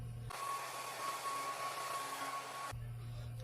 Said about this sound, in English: I'm just blow it dry so it's dry.